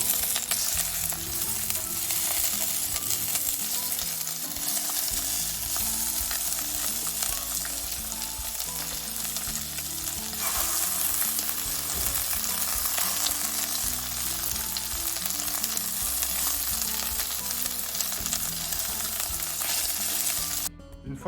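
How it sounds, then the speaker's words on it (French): Langoustines sizzling in a hot frying pan, a dense, continuous crackle and spatter that holds steady throughout, with a brief clink near the end. "Une fois que les langoustines sont bien revenues dans la poêle, vous les sortez."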